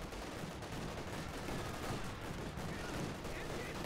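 Dense, continuous small-arms and battlefield fire from the World War II strategy game Company of Heroes 2, a distant-sounding wash of rattling shots and rumbling blasts with no clear pauses.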